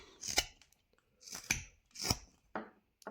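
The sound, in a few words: knife whittling a wooden barn owl carving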